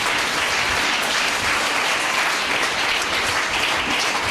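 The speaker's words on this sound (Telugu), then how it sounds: "ఒకసారి వారిద్దరిని బట్టి చప్పట్లు పడేసి స్తోత్రాలు చెల్లిద్దాం" A congregation in a prayer hall at Bethel Prayer Hall, Vijayawada, clapping together in sustained, dense applause that stays loud and even throughout.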